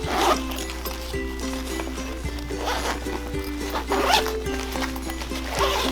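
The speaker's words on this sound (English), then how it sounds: "So your main zipper is here." A zipper on a hydration pack is pulled open in several repeated rasping strokes, close and clear, with a steady low hum underneath and no talking.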